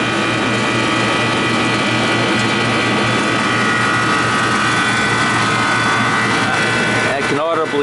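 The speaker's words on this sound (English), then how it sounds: "I can audibly hear the compressor working now. It's complaining, it's got to work hard." A freezer compressor labors hard during an expansion valve adjustment, giving a loud, steady mechanical hum and whir with rattling undertones that runs continuously, close by, with a brief disturbance near the end.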